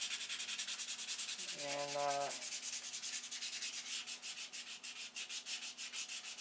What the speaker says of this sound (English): I've got to sand out this other one. And it's relatively smooth because we took all the z-poxy off. So just 320.